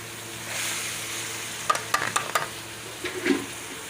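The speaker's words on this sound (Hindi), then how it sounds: "अब मैं शामिल कर रही हूँ दाल चना" Soaked chana dal tipped into hot frying masala for tinda curry, giving a soft sizzle with a few sharp scraping stirs of a spoon against the pan, fairly quiet and with no talking.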